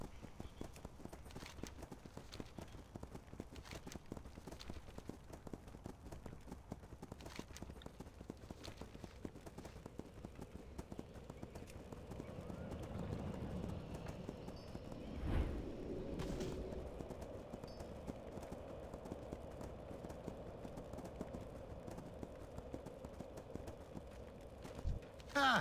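Hoofbeats of a riding mount in World of Warcraft: Mists of Pandaria, a steady, quick clip-clop rhythm that runs throughout, moderately loud, with game background sounds.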